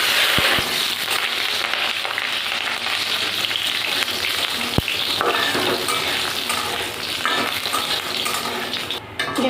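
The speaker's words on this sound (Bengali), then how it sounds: "এবার বড়িটা আমি ভেজে নেব" Lentil dumplings (bori), soaked in water beforehand, fry in hot oil in a wok, giving a loud, steady close-up sizzle with light stirring clatter throughout and no talking.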